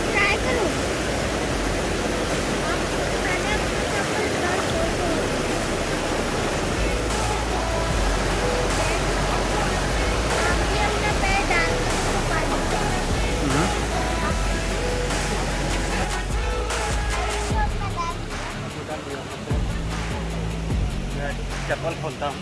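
Cold water of a mountain stream or waterfall on a road trip toward Nepal rushes steadily and loudly as a constant close wash, with voices faintly under it.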